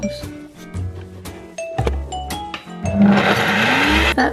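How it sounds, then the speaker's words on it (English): A kitchen blender works through a coconut oil and maple syrup mixture for late-night baking. A few clinks and short motor bursts come first, then a loud, steady whirring roar builds up close. "and then I'll blend those up by themselves"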